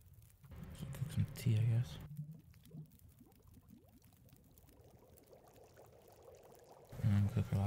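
Drinking water in the survival game The Long Dark, a soft gurgling pour and swallowing sequence in the middle, framed by someone speaking before and after it.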